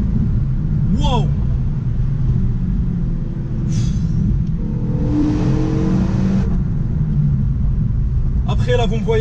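A Renault Megane 3 RS 275 Trophy with an Akrapovic exhaust roars loudly at close range, its engine droning and revving on a circuit. Brief voices break through the constant rumble.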